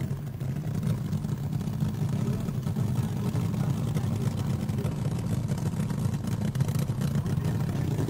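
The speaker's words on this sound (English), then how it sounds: "Listen to that Ram Charger's motor." A Ram Charger drag racing car at the 1971 NHRA Winternationals gives off a steady, muffled engine rumble heard from a distance, blended with crowd and ambient noise at a low level.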